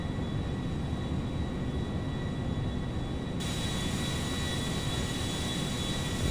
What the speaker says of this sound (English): I like how the flaps are always down on the 747.